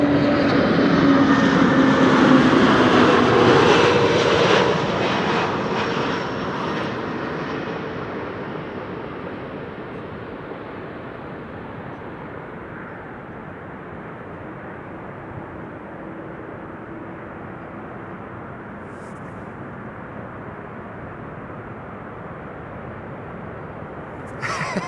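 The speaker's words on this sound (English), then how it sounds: "SAS up next, A320neo arriving from Stockholm." An SAS Airbus A320neo arrives at Amsterdam Schiphol, its jet roar loud at first and then fading over several seconds into a low, distant rumble that lingers to the end.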